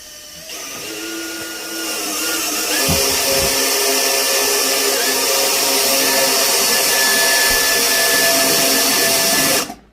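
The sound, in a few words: power drill drilling holes for range hood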